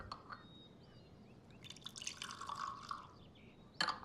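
Water poured for a guest in a quiet restaurant, a soft trickling fill into a glass lasting a couple of seconds, faint and close, with a brief clink near the end and no talk over it.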